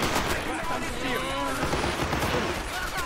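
Gunfire from the World War II strategy game Men of War: Assault Squad 2 in a defense of the Stalingrad grain elevator, dense overlapping bursts of rapid shots, loud and continuous, with voices talking over it.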